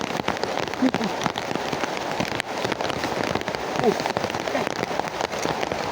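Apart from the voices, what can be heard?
rain falling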